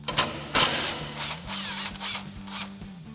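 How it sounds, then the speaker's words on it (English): Impact wrench with a 15mm socket running out an exhaust bolt on a Sierra 1500 while the tailpipe is supported, in several close, loud rattling bursts separated by short pauses. "we'll grab our 15mm socket on our impact and go ahead and run that bolt out"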